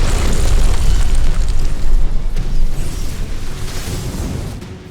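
Units open fire on a hybrid in StarCraft II, a heavy, rumbling barrage of overlapping explosions and booms rolling on loudly for several seconds before easing slightly toward the end.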